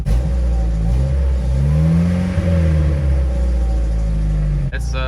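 A Jeep TJ engine idling steadily and close by, a low continuous rumble with a faint tapping from one piston running through it, and a brief clatter near the end.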